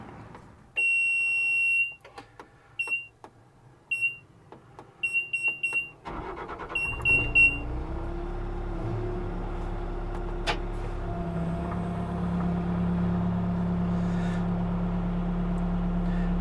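A new Bobcat S76 skid steer sounds repeated high warning beeps, then its engine starts and its hydraulics whine and rise as the lift arms raise and it drives, holding a steady loud drone.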